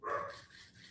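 A single short dog bark, fairly faint, trailing off quickly.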